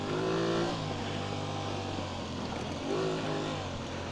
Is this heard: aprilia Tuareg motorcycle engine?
yes